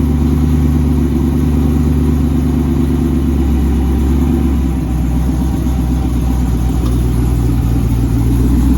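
A Jeep SRT fitted with an MMX cam and full exhaust rumbles loudly nearby, a deep steady idle with a lumpy throb and a slight swell partway through.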